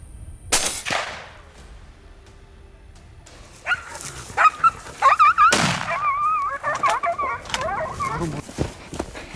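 Hunting dogs bark rapidly outdoors during a wild boar hunt in Texas, a busy mix of sharp yips and barks, with a couple of loud gunshots and rustling movement around them.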